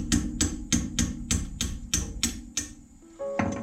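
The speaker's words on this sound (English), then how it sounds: "Use a hammer." Eight sharp, evenly spaced metallic hammer blows ring out one after another on a cotter pin while dismantling a car's front suspension, then a brief clank and a rattle of handled metal at the end.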